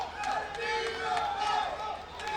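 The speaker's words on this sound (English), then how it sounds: "So you hear the crowd cheering on Guillermo." A boxing crowd at a super flyweight bout cheers steadily, a continuous roar of many voices with scattered shouts rising and falling throughout.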